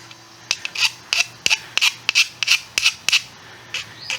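Hand file smoothing the cut end of a piece and removing burrs, heard as a dozen or so sharp rasping strokes in an uneven rhythm, close and loud, with no voices.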